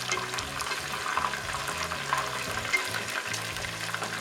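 Pieces of ginger chicken fry in an iron pan with a steady, moderate sizzle and crackle, continuous and close, with no talking over it.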